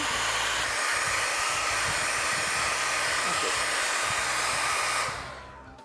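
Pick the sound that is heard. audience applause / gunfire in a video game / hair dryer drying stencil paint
hair dryer drying stencil paint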